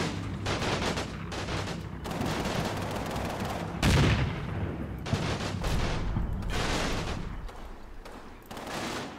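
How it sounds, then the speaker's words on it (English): Tank high-explosive rounds bursting amid continuous heavy gunfire during a WWII Italy counterattack battle in a video game, with dense overlapping blasts and a louder, deeper boom near the middle. "blown up by my tanks with the HE rounds"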